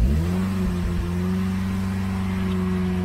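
A supercharged Vauxhall Astra engine catches and settles into a steady high idle, a loud, close, even drone with a supercharger whine layered on top, holding constant after a brief initial surge.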